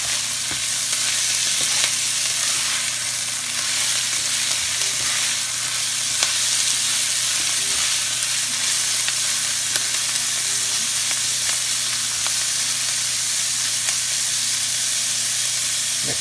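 Carrots fry in olive oil in a pan for fajitas, with a loud, steady, close sizzle and hiss and occasional stirring clicks, continuing throughout with no talk.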